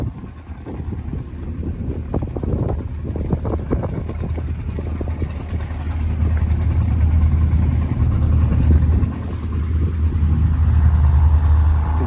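A restored V8 Valueliner truck at a country truck show idles steadily with a deep, continuous low rumble, close and fairly loud, with a few brief bursts of nearby activity in the first seconds.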